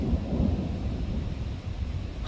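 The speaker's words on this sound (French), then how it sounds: "Je sais pas quelle est la taille vraiment de l'orage parce que ça pète un peu dans tous les sens." Deep rolling thunder from a violent late-summer thunderstorm near Grenoble in the Alps, a continuous loud rumble with rain hiss underneath, no voices.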